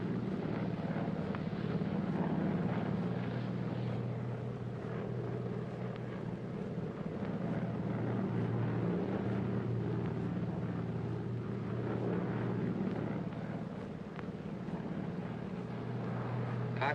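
Steady, low droning cabin noise of a 1940s airliner in flight, a constant engine hum and rush holding at an even level throughout with no voices.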